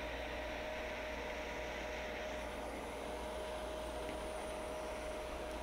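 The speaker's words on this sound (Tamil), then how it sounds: "பாருங்க, ட்ரக்கும் ஸ்னோ ரிமூவ் மிஷினும் போய்கொண்டிருக்கு." Heavy snow removal machine and truck working along a snowy street in Canada, a steady loud engine rumble and broadband roar running continuously without pause.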